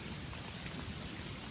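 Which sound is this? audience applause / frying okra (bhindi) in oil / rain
rain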